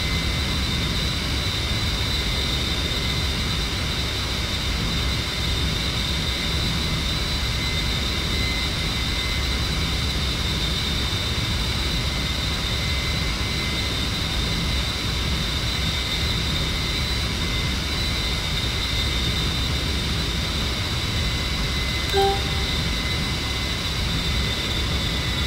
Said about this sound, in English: I've been running my engines at full throttle the entire flight.